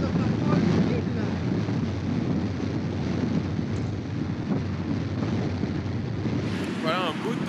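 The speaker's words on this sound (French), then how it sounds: "Il y a du vent aujourd'hui" Strong wind on a cold April day travelling along the Danube makes a constant rushing roar against the microphone, loud and unbroken throughout, with a brief voice near the end.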